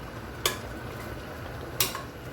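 A spoon stirs chicken manchurian in a hot pan over a steady low sizzle, with two sharp scraping clinks against the pan spaced a little over a second apart.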